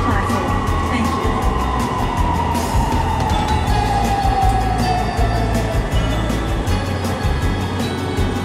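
Interior of a Japanese-made Bangkok MRT Purple Line metro train in motion, with a steady loud low rumble and a slowly falling whine as it runs, while a recorded announcement voice speaks over it.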